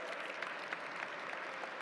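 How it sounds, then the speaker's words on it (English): Gala audience applauding Alan J., a brief, soft, even patter of many hands heard from a distance. "I want to make sure we give Alan J. a huge round of applause for all you do."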